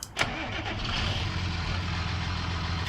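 A car engine cranks and catches with a short burst, then settles straight into a steady, fairly loud idle rumble heard up close with no talking.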